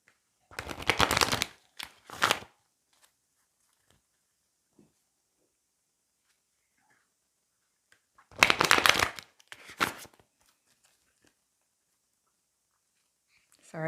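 A deck of tarot cards shuffled in the hands, not on the table: two bursts of rapid, papery riffling near the start and two more later, separated by quiet.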